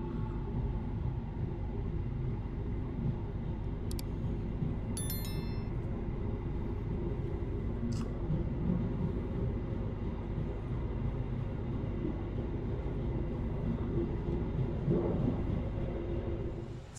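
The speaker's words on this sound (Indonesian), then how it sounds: "pukul 20:12 ya, kereta api Bima berangkat dari stasiun Jombang" The KA Bima executive passenger train pulls out of Jombang station at night, a continuous low rumble of wheels and carriage heard from inside, with a few brief high tones near the start.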